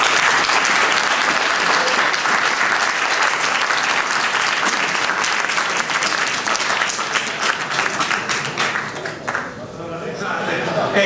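A large audience applauds steadily at a political volunteer group gathering. The clapping is loud and dense and continues for the whole stretch.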